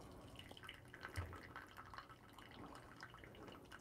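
Water drips faintly from a Flair 58 espresso maker as it is purged, a soft irregular patter of drops against a quiet background with no talking.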